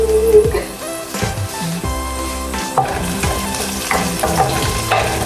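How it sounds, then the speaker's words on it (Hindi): Onions frying steadily in a pan toward golden brown, a continuous loud sizzle with occasional stirring clatter and scraping over it, no talk. "प्याज इतना टाइम क्यों ले रहे हैं गोल्डन ब्राउन होने में?"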